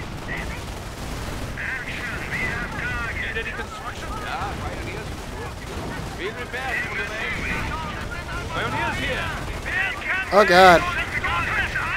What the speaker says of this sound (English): The Allies are firing on the bank.